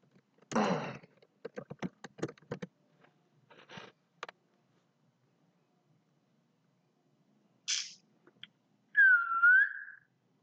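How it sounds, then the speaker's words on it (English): A short whistle near the end, a clear rising-falling tone, after scattered clicks and scraping noises; quiet otherwise. "Why did I whistle just now?"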